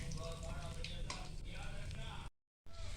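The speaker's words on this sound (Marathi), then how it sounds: "आपण जेवढी कोलंबी सेम प्रोसेसनी सेम पद्धतीने फ्राय करून घेऊया" Prawns frying in a pan for a Marathi-style prawn fry give a soft, steady sizzle and crackle, heard quietly and continuously apart from one brief dropout near the end.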